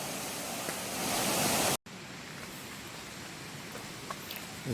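Water pouring at Shelve waterfall makes a steady, broadband rushing roar. After a brief cut it continues somewhat softer and more distant, with no voices heard.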